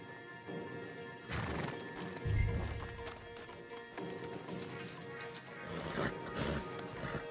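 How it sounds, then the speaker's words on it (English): Horses in a video game snort and whinny up close, with hoof clops and a heavy thud, over a busy low background. "Javier, you're gonna lead the stallions"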